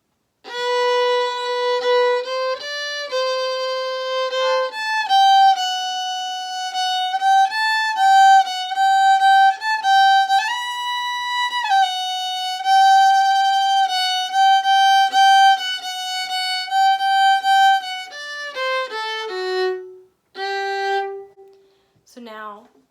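A solo fiddle plays the second repeat of the B part of an advanced traditional fiddle tune, a steady run of clear bowed notes that climbs and falls before resolving on a low note near the end, with no talking.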